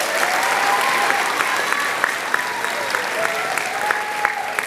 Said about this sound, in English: So go ahead and give Daryl a round of applause.